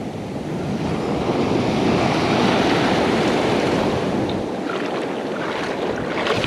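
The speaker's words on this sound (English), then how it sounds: "Let these couple waves pass." Ocean surf on the shore during surf fishing, a steady loud wash of breaking waves with wind noise on the microphone, close and continuous throughout.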